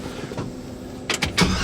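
A truck engine fitted with new parts cranks briefly and then catches, giving a short burst of starter whir followed by the engine firing up, close and moderately loud.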